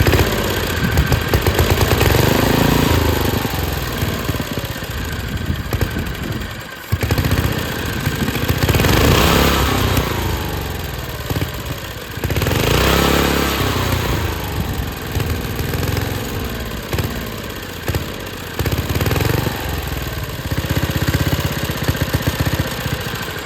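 A swapped-in small engine on a 1959 David Bradley Suburban tractor runs loud and close, a steady rattling putter that dips and surges in speed several times over a long stretch.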